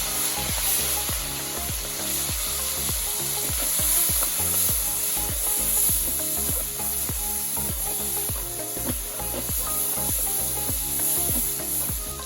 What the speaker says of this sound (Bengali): প্রথমে আমি লবণ হলুদ মাখিয়ে রাখা চিংড়ি মাছ দিয়ে দিচ্ছি প্লেটে।